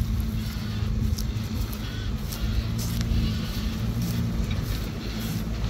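An Isuzu Mega 320 truck loaded with sugarcane pulls away in a low gear, its diesel engine droning steadily and loud from close by with a heavy low rumble that barely changes pitch.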